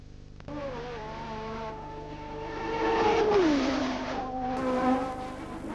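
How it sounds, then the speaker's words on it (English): A Ferrari Formula 1 car runs on track during 1987 Australian Grand Prix practice and qualifying. Its high, sustained engine whine rises and sweeps down in pitch as it passes, steady and fairly loud, with no talk. "There you see Michele Alboreto and his Ferrari out on the track now."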